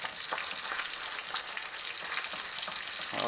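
Ribeye steaks fry in butter in a cast iron pan, giving a continuous, close, crackling sizzle with small spitting pops throughout and no voices.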